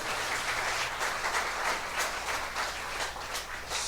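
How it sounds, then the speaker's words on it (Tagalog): Church congregation applauding loudly in praise, a dense steady wash of clapping that holds for the whole stretch without talk. "Kusog nga palakpak para sa Ginoo."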